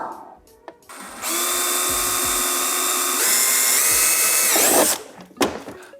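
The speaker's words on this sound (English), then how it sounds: "drill a small hole." A power drill whirs steadily for a few seconds drilling a small hole, its pitch rising briefly near the end before stopping, close up with no talk.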